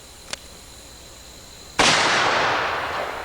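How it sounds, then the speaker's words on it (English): A Ruger Super Blackhawk .44 Magnum revolver fires one hot 240-grain load at an outdoor range, a single loud, sharp blast that rings out and decays slowly, preceded by a faint click. "watch the recoil of the Super Blackhawk in my hands today with the super hot 1400 feet per second load, 44 Magnum, 240 grain bullet"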